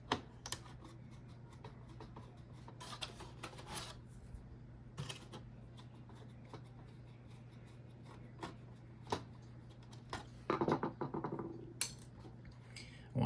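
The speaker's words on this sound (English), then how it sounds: "let's take the circuit board off, take the rest of these screws out." Screws and a circuit board coming out of a discarded ADT security system box: scattered small metallic clicks, scrapes and taps from tools and parts, with a few louder clatters near the end over a steady low hum.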